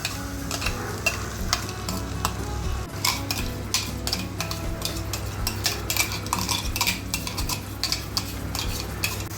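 Tomato puree hits browned onions in a hot pan for a green peas kheema, setting off a steady close sizzle while a spoon stirs and scrapes against the metal pan again and again, with no voices.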